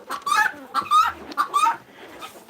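Chickens at a coop door give several bursts of clucking and squawking, close by and fairly loud, with short pauses between calls.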